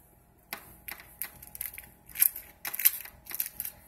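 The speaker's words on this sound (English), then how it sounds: "That noise is the crispiness of the chicken." Crispy oven-baked chicken wings being handled and bitten, giving irregular dry crackles and crunches that grow denser and louder toward the end, close up with no talk.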